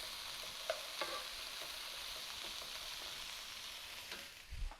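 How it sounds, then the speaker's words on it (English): Carrots and other vegetables sizzle in a frying pan while being stirred, a faint steady crackle broken by a few soft spatula scrapes and a low knock near the end. "Give this a stir."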